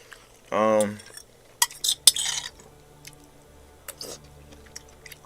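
A fork or spoon clinks and scrapes against a dish while someone eats buttery caramelized onion pasta, with a few brief close taps and a short hummed vocal sound.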